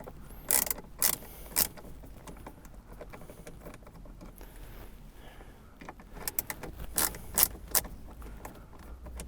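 Small sharp clicks and metallic ticks come from a stubby screwdriver backing out the screws of a ProClip phone mount inside a C7 Corvette, in scattered bursts with quieter fiddling between, close by and without talking.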